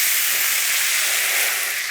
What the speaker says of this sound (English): we're going to deglaze this with a red wine